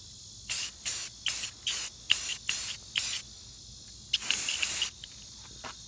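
Aerosol spray paint is applied to car rims in a series of seven short, even bursts of hiss, then one longer spray and a final brief puff, close and clear with no talking.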